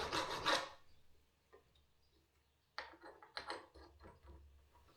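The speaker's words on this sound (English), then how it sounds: "I think I'm just going to carefully go with a rat's tail file and round that out" A rat's tail file rounds out a metal hole on a Brumby EJ25 engine build, heard as a quiet burst of rasping strokes, a pause, then a series of short, uneven scraping strokes close up.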